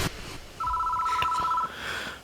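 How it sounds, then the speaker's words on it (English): A phone rings in the Spirit Hunter: Death Mark horror adventure game, a single steady electronic two-tone ring lasting about a second over a quiet ambient background. "The phone is ringing."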